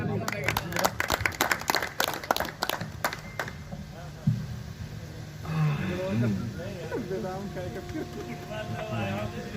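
A burst of audience clapping at a comedy drama about train travel, dense claps for a few seconds that thin out and give way to talk and background chatter.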